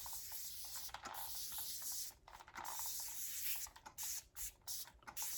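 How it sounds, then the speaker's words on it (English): A continuous-mist spray bottle hisses in long bursts and short puffs as it wets a paper towel for an acrylic pour painting, close and fairly quiet with brief gaps. "I'm going to use my spray bottle. I'm going to get the paper towel wet."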